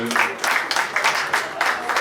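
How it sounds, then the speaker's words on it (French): Wedding guests applaud the newlyweds at an evening reception, a short, steady burst of clapping with talk running beneath it. "On va applaudir très fort les mariés."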